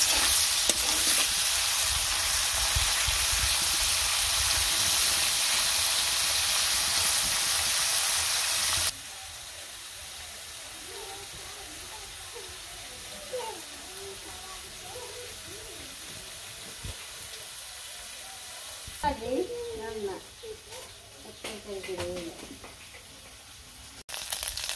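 Fish frying in a pan during village cooking, a loud, steady sizzle for the first stretch that then drops to a quieter background with scattered bird calls and occasional clatter.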